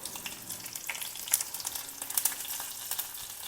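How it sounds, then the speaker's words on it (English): Mustard seeds, urad dal and chopped green chilli frying in a spoon of hot oil for a tadka, giving a steady close sizzle with sharp pops and crackles of seeds bursting throughout. "Do a simple tadka with some mustard seeds, urad dal, 1 green chilli chopped"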